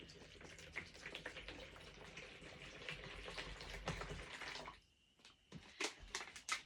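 Bottled water pours and splashes over raw meat being rinsed in a kitchen, a steady close trickle that breaks off near the end into a few scattered drips and splashes.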